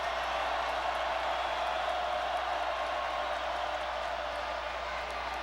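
A packed college football stadium crowd at an LSU home game against Ole Miss gives off a broad, sustained roar during a late-game timeout, steady and distant-sounding with no single voice standing out.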